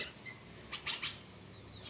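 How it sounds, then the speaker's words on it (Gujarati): A few short, faint bulbul chirps, two or three quick calls in a row from a pair of bulbuls against quiet outdoor background noise. "આ જો બે બે બુલબુલ ભેગા થઈ ગયા અહીંયા જ્યારે બોલાવે છે બધાને"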